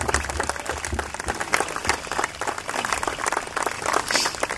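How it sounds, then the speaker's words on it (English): A crowd at a softball tournament gives a dense, continuous round of applause, many hands clapping at once in a steady wash that holds level throughout, some cheering mixed in, no speech. "give a big round of applause for him"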